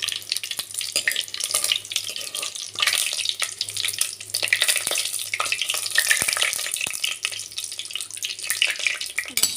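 Chopped onion, tomato, green chilli and curry leaves sizzle in a hot pan for pepper chicken, a bright continuous crackle close by with scraping stirs and occasional clinks, no voices.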